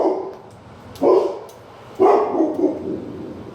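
Dogs in a home kitchen barking, with two loud, close barks about a second apart followed by softer yips and whimpering that trail off, all without anyone talking.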